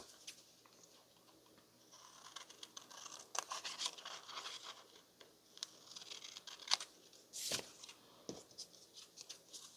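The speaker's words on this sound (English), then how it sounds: "We can just cut them out." Scissors snip through sturdy paper as ephemera pieces for scrapbook bookmarks and page tabs are cut out, quiet close crisp cuts with some rustling and crinkling of the paper.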